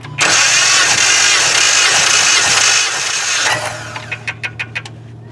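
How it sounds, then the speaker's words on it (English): A 2016 Jeep Patriot with a 2.0-litre engine and misfires on cylinders 3 and 4 cranks and fires up with a loud roar, then settles into a steady run punctuated by several quick rhythmic clicks near the end. "letting it set and then running the engine"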